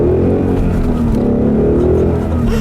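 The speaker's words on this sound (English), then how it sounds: "I'll leave you guys with a quick little acceleration here, some traffic" Steady, loud engine drone from a car pulling away in traffic, its harmonic tone climbing gradually as it accelerates, heard from inside the cabin.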